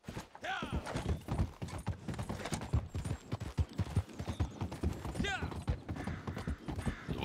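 Steady clip-clop of horse hooves on the ground in Red Dead Redemption 2 Online, a continuous trotting rhythm with creaks and a brief whinny, under ongoing talk.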